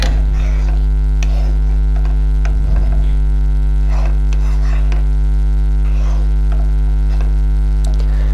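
Vermicelli (semai) fries in a pan for a sweet dessert, giving a soft sizzle and occasional stirring scrapes under a steady, prominent electrical hum, with no talking.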